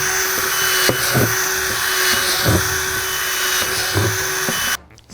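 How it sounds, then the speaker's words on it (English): A power drill whines steadily, its pitch dipping in several short bursts as it bites into a plastic bucket lid, drilling air holes, then cuts off near the end. "drill some air holes in your lid"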